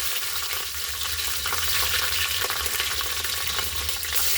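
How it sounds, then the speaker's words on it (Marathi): Green chilies fry in hot oil spiced with bay leaf, cinnamon, cloves and black peppercorns, stirred with a spatula; a steady, close, bright sizzle runs throughout with soft scraping, and no one talks. "याला उलथण्याने छान मिक्स करून घेऊ. मिरच्या भाजल्यात."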